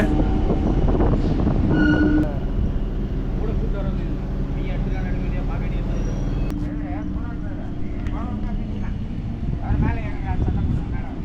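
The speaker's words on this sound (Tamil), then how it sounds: "ஆப்போசிட்டில் நீங்கள் பார்க்கறது டூ பேர்ட்ஸ் வேளச்சேரி போகிற ட்ரெயின் தாங்க" A Chennai MRTS suburban train bound for Velachery rumbles past near Chennai Fort station, with heavy, steady low-pitched rolling noise and occasional rail squeals, while a person talks over it.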